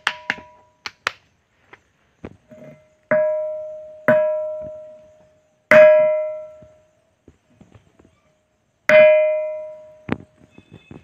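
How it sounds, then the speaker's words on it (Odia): A natural stone struck by hand gives off bell-like metallic rings: about five clear strikes, each with a long, fading tone, spaced between quieter taps and knocks, close and loud with no talking. "ସାଉଣ୍ଡ ଗୋଟେ ଘଣ୍ଟି ଭଳିଆ ଆସୁଛି"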